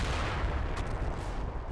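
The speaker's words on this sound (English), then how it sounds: "So the Germans continuing to drop some artillery down." German artillery fire in the WWII game Combat Mission: Battle for Normandy, a continuous low rumble of distant shelling and explosions with a few sharper impacts rolling over it.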